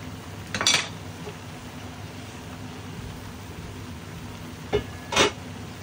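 A spoon clanks against a cooking pot while pinakbet vegetables are stirred, giving a couple of short metallic clinks spaced a few seconds apart over a quiet kitchen background.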